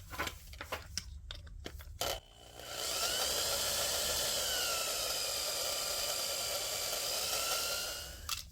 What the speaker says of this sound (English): give it a dent in the center so that you can drill the rivet out